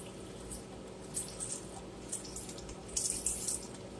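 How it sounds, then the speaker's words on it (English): Beef broth pours into a pot of vegetable beef soup, a steady liquid splash with brief louder gushes near the end, close by and without talk. "going to pour the broth in here"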